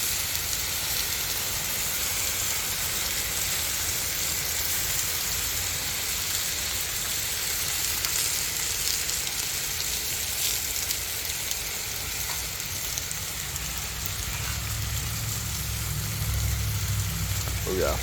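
Chicken coated in Thai chili sauce sizzles on a Blackstone griddle, giving a constant dense crackling hiss that stays loud and close throughout.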